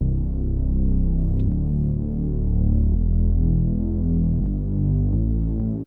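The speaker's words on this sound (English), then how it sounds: "I just have this pad playing the chords. This is just a serum preset." Sustained synth pad chords from a Serum preset in an EDM remix, warm and droning with steady low harmonics, shifting chord every second or so, played alone at a constant loud level.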